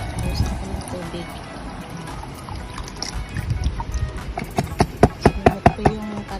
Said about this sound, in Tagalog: buhos na ko ng tubig